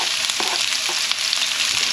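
Chunky chopped onions frying in avocado oil in a pan, giving a steady bright sizzle with small pops and crackles, close up and with no one talking.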